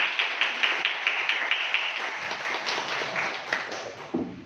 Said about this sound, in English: a big round of applause for Dr. Syed Ali Ahmed.